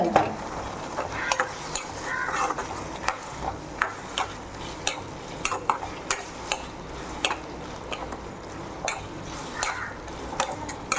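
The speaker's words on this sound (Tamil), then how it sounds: "மசாலாலாம் கொதிக்கும்ல," Okra masala simmering in a pan with a little water, bubbling softly underneath while a spoon taps and scrapes the pan in short, regular strokes; no talking.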